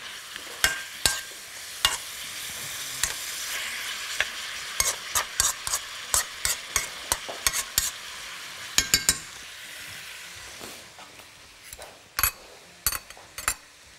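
Food is stirred in a pan over a soft background sizzle, with a spoon striking the pan in repeated sharp clinks and scrapes, irregular but frequent, close and fairly loud.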